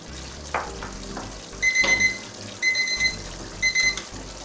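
A cooking timer beeps in three short repeated bursts over a pot of Caribbean lamb pelau simmering and sizzling underneath, close and clear.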